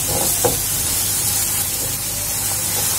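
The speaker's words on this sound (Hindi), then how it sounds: "बहुत ज्यादा देर नहीं भूनना है, 1 मिनट के करीब हम भून लेंगे।" Schezwan chutney with chopped ginger and coriander frying in a pan, a steady low hiss and sizzle with a few small pops and stirring clicks, close and continuous.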